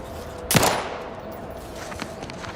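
A single sharp gunshot in The Outer Worlds 2, loud and close, with a short decaying tail followed by faint game ambience and a couple of light clicks.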